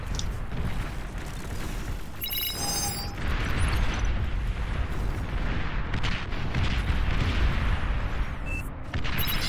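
Artillery shelling in the strategy game Beyond All Reason, a dense rumble of booms and impacts layered with scattered shots and high chirps, steady and loud throughout.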